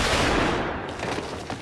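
Rapid gunfire erupts in a Tokyo Revengers anime scene, a dense, loud burst of shots that fades slightly and leaves a few scattered cracks after.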